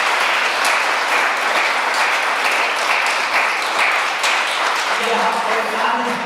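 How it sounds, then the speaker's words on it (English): Audience at the SCHLINGEL international film festival award ceremony applauding the youth film jury, a dense, steady wash of clapping filling the room throughout, with a voice emerging faintly near the end. "An applause for our jury."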